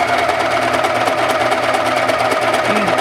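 A Singer Pro Fi serger overlock sewing machine runs continuously, a loud, close, even mechanical whir and buzz without pause.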